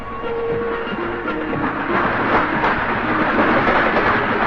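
A train runs on the railway during the 1989 Kumbh Mela at Prayagraj, one of the many trains bringing pilgrims there. It makes a loud, steady rumble that continues throughout, with no talking.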